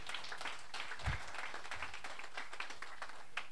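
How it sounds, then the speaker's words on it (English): Audience applause at a WordPress London meetup, a quiet, steady patter of many hands clapping at a distance for a few seconds. "Big round of applause"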